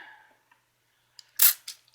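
A handheld spray bottle squirting patina solution: after a near-silent stretch, a few short, sharp spritzes land close and fairly loud, the last one cut off at the end.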